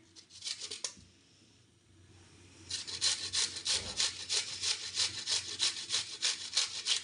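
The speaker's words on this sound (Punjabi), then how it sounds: "ਪਿਆਜ਼ ਛਿਲ ਕੇ ਆਪਾਂ ਨੇ ਧੋ ਲਿਆ ਆਪਾਂ ਇਹਨੂੰ ਵੀ ਕੱਦੂਕਾਸ਼ ਕਰ ਲੈਣੇ ਆ" A peeled, washed onion is grated on a kitchen grater after a short pause. The close, rhythmic rasping strokes come at a steady, even pace, about two per second.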